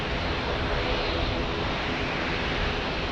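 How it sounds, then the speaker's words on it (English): An American Airlines plane landing in San Diego, a dense, loud broadband jet roar filling the whole moment without break, no voices over it. "American Airlines landing here"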